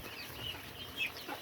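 Farm chickens feeding give soft, brief clucks over a low rustling background, fairly faint and close, with no talk.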